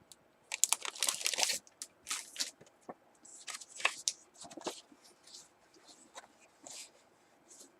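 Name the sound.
taking a paper card out of an envelope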